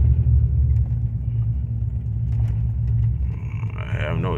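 A lifted Toyota Tundra pickup on 37-inch tires being driven, a loud steady low engine and road rumble from inside the cab, with a brief rise in higher noise near the end.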